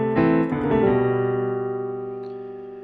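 A piano plays a lick quickly, a few fast notes in the opening half second settling into a chord that rings out and slowly decays, heard alone without talk.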